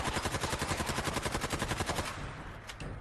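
Rapid automatic gunfire from a weapon fired from the hip in the video game Fallout 4, a fast, evenly spaced burst of loud shots for about two seconds, then a few scattered impacts and echoes.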